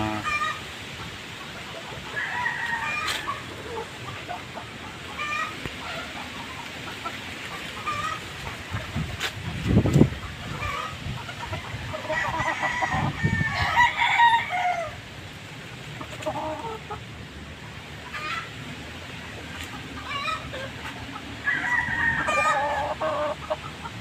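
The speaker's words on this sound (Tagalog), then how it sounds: "Napatuka na ang mga magagandang mga manok." Chickens cluck and murmur around a poultry farm with breeding pens, with a rooster crowing partway through; the calls come in scattered bursts over a quiet background.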